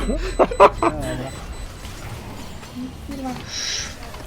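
A dog gives a few quick, sharp barks early on, then falls quiet while people talk over a low background.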